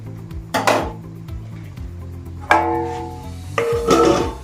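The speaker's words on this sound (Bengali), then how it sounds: "এবার একটু আমরা ঢাকা দিয়ে রাখবো এটাকে, টমেটোটা একটু নরম হয়ে যায়" A metal lid clanks down onto a cooking pot of fruit chutney with softening tomatoes, giving three sharp, ringing clinks spread over a few seconds, close and alone.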